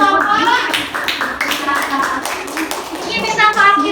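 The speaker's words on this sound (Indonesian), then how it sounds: "tepuk tangan dulu untuk kelompok." Classroom applause for a student group, a burst of hand claps from many pupils with children's voices chattering over it throughout.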